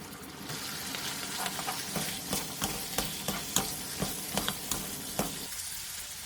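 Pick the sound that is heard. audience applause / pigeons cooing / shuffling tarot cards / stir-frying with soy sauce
stir-frying with soy sauce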